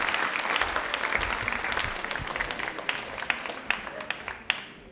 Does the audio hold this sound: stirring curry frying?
no